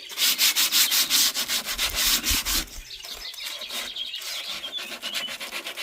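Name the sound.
hand sanding wooden chair with sandpaper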